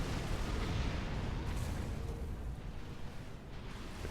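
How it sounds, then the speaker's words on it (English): An Aeon Obsidian tank gun firing in the Supreme Commander strategy game, a dense rumbling barrage of deep booms layered continuously at moderate level, with no voices. "I love the Obsidians. I know I've said that many, many times, but sexiest gun noise in the game."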